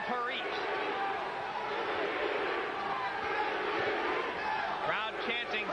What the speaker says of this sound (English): Crowd chanting, "Sweet pea,